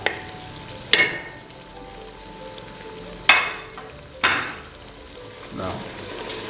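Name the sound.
cashew and melon seed paste cooking for mutton korma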